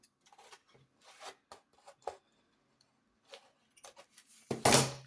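Cord being trimmed off a knot with scissors: a scatter of small, close snips and rubbing rasps, quiet and intermittent, ending in a louder brushing burst.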